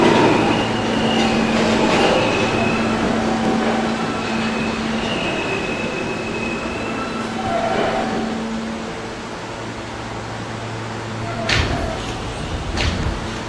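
An R160 subway train rumbles steadily at Intervale Avenue station, with wheel squeals and clanks, then quieter sounds of doors and brief metallic bangs near the end.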